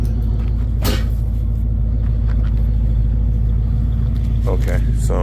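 A truck engine idles with a steady low rumble, close and continuous, with a brief sharper clank near the start and faint noises from the work area around it.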